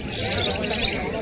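Exotic pet birds at the Serampore bird market give high, thin chirps and calls over a busy background hum, close and fairly loud.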